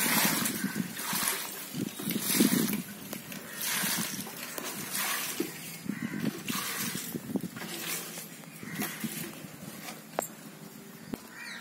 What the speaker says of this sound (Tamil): உடனே தண்ணி ஊற்றிடணும்